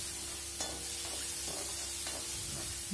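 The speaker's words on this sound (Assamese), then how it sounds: "দি আদা নহৰু পেষ্টটো ভালকৈ ভাজ খোৱালৈ মই এনেদৰে লৰাই লৰাই ভাজি আছোঁ।" Onion, ginger and garlic paste with bay leaves fries in hot oil, a continuous loud sizzle broken by several scraping strokes of the stirring spoon, with no voices.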